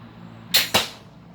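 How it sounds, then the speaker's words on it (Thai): A homemade speargun fires its first shot, two sharp snapping cracks in quick succession about a quarter second apart, close and loud, then quiet. "ยิ่งครั้งแรกของปืนตัวนี้ครับ"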